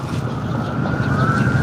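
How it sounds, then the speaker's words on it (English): An ambulance siren on a city street near MacArthur Park in Los Angeles, a steady wail rising slightly in pitch, heard at moderate distance under wind and traffic rumble. "Those are paramedics, those are ambulance."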